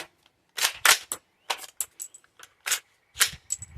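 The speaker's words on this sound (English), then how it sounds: "So it does go ahead and eject the rounds when cycled manually." A rifle action is worked by hand several times, giving a quick series of sharp metallic clacks and clicks as rounds are ejected, close and loud with brief silent gaps.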